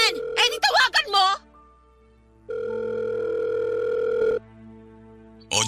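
Steady telephone dial tone from a phone call, holding for about two seconds right after a short burst of talk and ending just before more speech.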